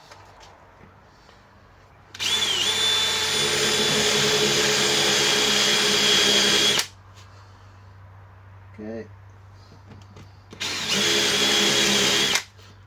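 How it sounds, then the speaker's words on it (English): A power drill whirs loudly in two bursts, a long one and then a shorter one, with quiet pauses between and a brief spoken word in the gap. "always start with a big drill"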